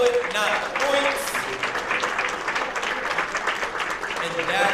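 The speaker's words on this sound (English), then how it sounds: "Again, we applaud the poet, not the points." Audience applause rings out at a poetry slam after a poet's score is read, steady broadband clapping filling the room with a wash of voices and cheers mixed in throughout.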